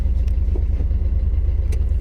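A vehicle engine idles with a low, steady rumble while a child sits at the wheel in a village setting, with faint clicks over the drone and no talk.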